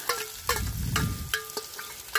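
Small onions frying in hot oil for a Kerala-style fish curry, a steady sizzle broken by several sharp scrapes and clinks of a spoon stirring against the pan, close and clear.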